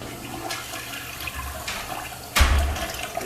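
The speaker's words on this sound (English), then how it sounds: "Let's see how this toilet flushes." A toilet in a home with a suspected sewer drain problem flushes nearby, a steady gush of water that swells into a louder rushing surge partway through, with no talking.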